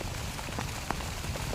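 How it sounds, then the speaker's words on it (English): Steady rain falls at a cricket ground in Prague, a dense continuous patter of drops on surfaces with occasional sharper splashes, with no voices. "still is raining, not quite as heavily as it was a few moments ago"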